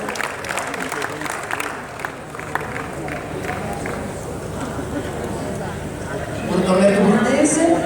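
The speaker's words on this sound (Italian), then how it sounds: "Farò un applauso a tutti" Audience applause at a Rimini restaurant gathering honoring chef Bottura, with dense clapping spread across the clip, swelling louder near the end while a voice speaks over it.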